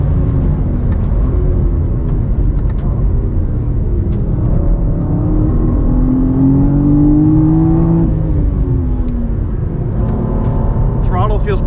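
A 2023 BMW M4 CSL is driven hard on a race track, its engine droning loudly and steadily with rising and falling pitch through gear changes and a climb to a peak near the end, while someone talks throughout.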